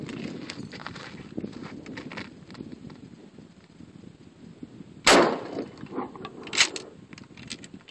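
A shotgun loaded with a cut shell fires outdoors into a piece of scrap metal backed by wood: one sharp, loud blast about two-thirds through, followed by a smaller crack, over steady background noise.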